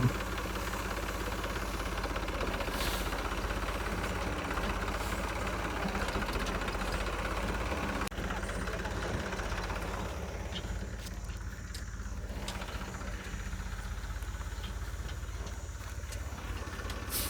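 A steady, low tractor engine idle rumbles continuously throughout, loud and close, with a constant drone and no talking.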